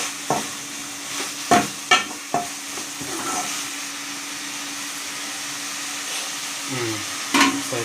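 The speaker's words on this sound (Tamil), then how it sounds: "நல்லா கிளறி விட்டிங்கன்னா நல்லா மிக்ஸ் ஆகிடும்." Spoon stirring mutton curry in a pan, giving a handful of short scraping knocks spread through the clip over a soft, steady sizzle and hum.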